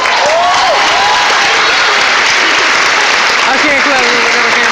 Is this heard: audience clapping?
yes